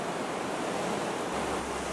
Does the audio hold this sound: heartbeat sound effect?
no